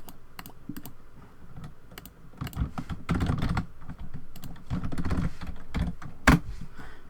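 Computer keyboard typing with bursts of quick, close key clicks broken by short pauses, one louder sharp tap near the end, no voices.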